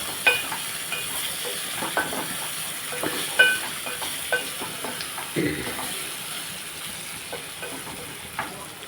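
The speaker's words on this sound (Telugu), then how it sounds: "వంకాయలు బాగా మగ్గుతున్నాయి చూసారా" Brinjals (eggplant) cooking under a lid in a covered pan give a soft, steady sizzle with small scattered pops and crackles, moderately quiet and continuous, with no talking.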